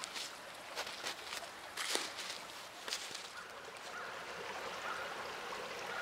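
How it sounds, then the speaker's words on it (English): Water from a small stream trickles and flows steadily beneath a little ice shelf outdoors, a soft continuous wash with a few brief crunching steps early on, fairly faint and without talk. "I've come across this little ice shelf, which actually has water flowing underneath it"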